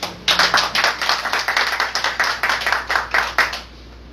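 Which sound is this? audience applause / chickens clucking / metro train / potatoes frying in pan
audience applause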